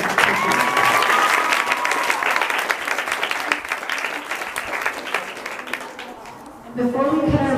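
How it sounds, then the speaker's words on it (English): An audience applauds teachers at a school gym dedication: a sustained, fairly loud crowd clapping with some cheering and chatter mixed in, easing toward the end as a voice resumes. "So huge round of applause for all of our amazing teachers."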